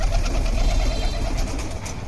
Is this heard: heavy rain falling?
no